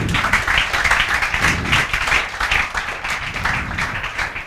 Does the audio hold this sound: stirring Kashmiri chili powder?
no